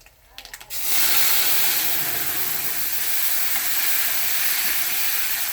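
Dal poured into a hot tempering of cumin and curry leaves bursts into a loud, roaring hiss after a few brief clatters, then keeps up a steady, intense sizzle close by with no talking.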